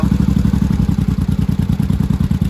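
An early-1980s barn-find motorcycle, a Yamaha Maxim 750 or Honda Shadow, idles high off the choke while still cold. It gives a steady, close, loud throbbing with even pulses throughout and no voices.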